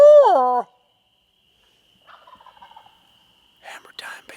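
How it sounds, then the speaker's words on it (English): Wild turkeys gobble in a field at dusk: one loud, close rolling gobble opens, then fainter distant gobbles and calls answer from across the field, with a further burst near the end. "See if we can get them to gobble."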